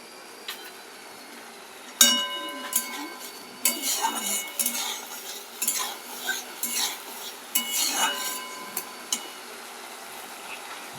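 A spoon scrapes and clinks against a metal pan while paneer curry ingredients are stirred, a light sizzle underneath, with busy clattering bursts through most of the clip after a quiet start.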